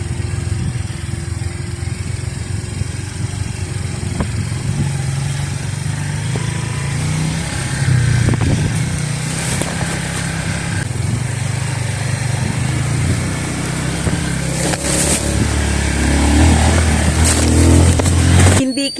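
A motorcycle strains on a muddy road, its engine droning and labouring unevenly for a long stretch as the revs rise and fall.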